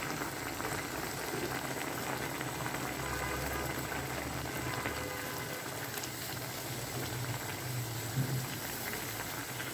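Boal fish curry with onions simmering in a pan, a dense, continuous bubbling and sizzling that stays close and steady throughout, with no voices.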